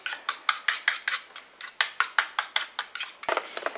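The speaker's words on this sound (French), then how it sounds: "Et je viens encore rajouter ma poudre de lait de coco. Et je mélange à nouveau." Hair conditioner mixture with coconut milk powder stirred in a container, heard as a quick, regular series of close tapping and scraping utensil strokes with one sharper knock near the end.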